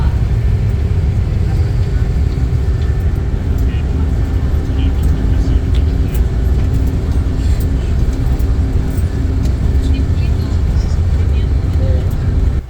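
A bus on the NLEX expressway in the Philippines, heard from inside as a continuous loud engine drone with road rumble, with a voice talking over it throughout.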